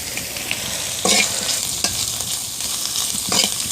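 Dried fish frying with turmeric powder in hot oil: a steady close sizzle broken by periodic scraping stirs of the spatula, with no talking.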